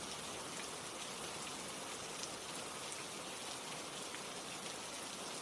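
Steady, dense rain falls in an even, unbroken hiss, soft and enveloping with no gaps, drips or voices.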